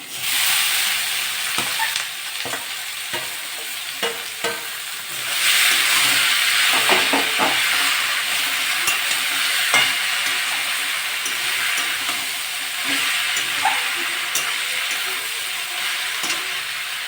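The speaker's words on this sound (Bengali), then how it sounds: "পেঁয়াজটা ভাজা ভাজা হয়ে গেছে, আমি এবার এগুলো দিয়ে দেবো।" Browned onions with ginger and garlic hiss and sizzle in a hot pan as more spices go in for a banana-flower and potato ghonto, the frying swelling louder midway with occasional stirring scrapes.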